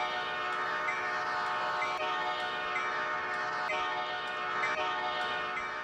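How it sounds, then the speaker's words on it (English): An Amtrak train horn sounds as a steady, loud, sustained multi-tone blast that continues for several seconds with only slight wavering, heard up close with no one talking. "Here's my next train. It's"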